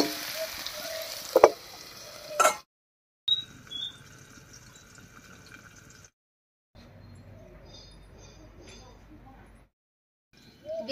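River bata fish cooks with salt and turmeric in a covered pan, giving a soft, steady sizzle broken by short gaps, with a few louder knocks and clatters early on.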